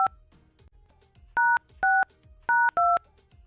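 A telephone being dialed to call a guest, with four or five short, loud dual-tone keypad beeps in an uneven rhythm over a faint, quiet room background.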